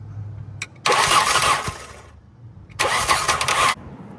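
A BMW M50 engine on a teardown stand cranks in two loud, close bursts of roughly a second each with a pause between, the starter whirring without a clear catch into idle.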